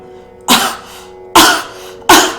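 Three forceful, deep coughs from the lower belly to clear chest phlegm, evenly spaced and close up, each a sharp burst that fades quickly.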